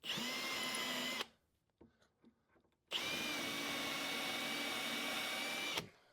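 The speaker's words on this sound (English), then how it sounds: "all I'm doing here is just kind of marking holes for further drilling" A power drill whines loudly in two bursts while marking holes, the first about a second long, the second longer, with faint clicks and handling noises between.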